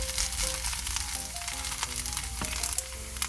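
Dense, crackling sizzle of a thin layer of kimchi rice frying and crisping in a hot pan over medium heat, steady and close, with faint tonal hums underneath and no talking.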